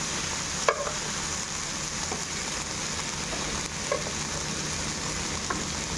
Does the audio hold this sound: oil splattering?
yes